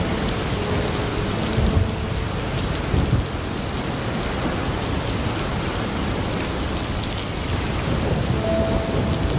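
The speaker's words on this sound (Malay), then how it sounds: "taufan dan badai yang datangkannya ganas dan penuh dengan kesumat serta dendam yang tiada berkesudahan" Heavy rain pours steadily with a broad, constant roar, while low thunder rumbles roll in under it, a continuous storm sound effect with no voices.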